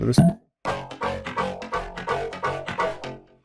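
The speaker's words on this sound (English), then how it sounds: "So it's a Camel Crasher in parallel." Parallel distortion from a Camel Crusher plugin thickens a rhythmic synth or vocal line in a production session, a short hit, a pause, then a chain of gritty, pulsing notes, loud and close.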